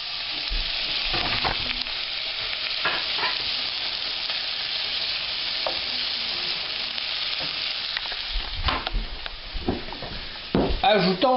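Small peppers sauté in melted butter in a pan, a steady close sizzle broken by scraping and stirring clatter, with a few louder knocks near the end.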